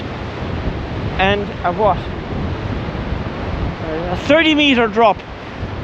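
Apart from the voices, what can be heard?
ocean waves below Ballycotton cliffs, with wind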